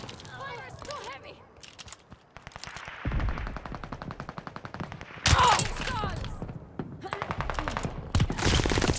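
Heavy automatic gunfire rattles in a Call of Duty: Vanguard match on the Casablanca map, with long bursts of rapid machine-gun fire and sharp shots mixing with shouted voice callouts and battle noise.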